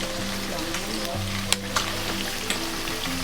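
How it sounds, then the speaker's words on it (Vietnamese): Crab sizzling and frying crisp in hot oil in a home kitchen, a dense continuous crackle close up, with a few sharp pops and faint voices in the background. "Mình chiên cho nó giòn luôn ha chị"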